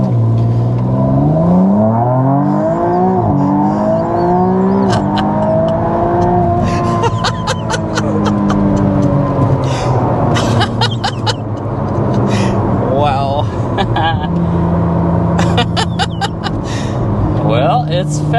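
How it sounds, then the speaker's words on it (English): A McLaren Artura Spider accelerates hard, its engine note climbing in repeated rising sweeps as it revs through the gears. People talk over the loud, close engine throughout. "we want to go ahead and start with a hard acceleration"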